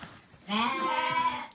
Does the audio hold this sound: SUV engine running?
no